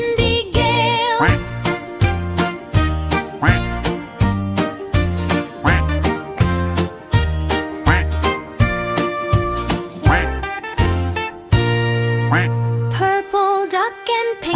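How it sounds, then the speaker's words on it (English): Cartoon duck quacks from a green duck group in a children's song, repeated in a bouncy rhythm over loud, steady music with a tinkly melody throughout. "Four green ducks near a tree, quack together, 1, 2, 3."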